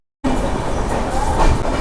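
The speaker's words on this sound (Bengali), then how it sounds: "আমাদের ট্রেন চলে আসলো বোলপুর শান্তিনিকেতনে" Train rumbling along at Bolpur Shantiniketan station, heard from inside the carriage as a loud, steady roar and rattle that starts abruptly after a brief silence.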